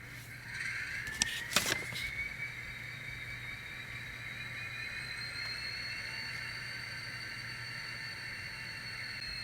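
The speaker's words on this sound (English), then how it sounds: "Okay, let's do the startup sequence." An N scale GP40-2 model diesel locomotive with DCC sound runs its startup sequence: a few sharp clicks, then a rising electronic whine that settles into a steady hum and hiss.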